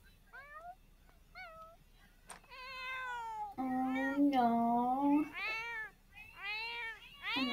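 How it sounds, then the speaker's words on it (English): Several house cats meow and caterwaul in a string of drawn-out, rising and falling cries, some loud and close, with someone briefly speaking over them. "Oh, what are those kitties doing?"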